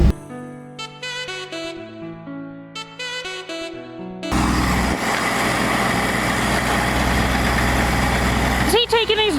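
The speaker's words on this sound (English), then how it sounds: "tractor cab for the win." Tractor engine heard from the cab after a stretch of music, idling as a steady, loud, low rumble, with a brief voice near the end.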